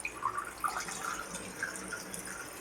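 Tap water runs into a drinking glass in a kitchen, a steady splashing, bubbling fill close by, with no talking.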